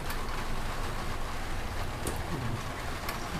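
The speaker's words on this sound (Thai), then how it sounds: "เสียงฝนตกนะเพื่อนๆ" Steady rain patters down continuously, a soft broadband hiss with occasional louder drips, with no voices over it.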